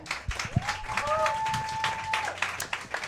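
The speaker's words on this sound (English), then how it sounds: "clap your hands." A comedy roast audience claps and cheers to vote for a round winner; uneven bursts of applause rise and fall, with a shrill whistle and people talking over it.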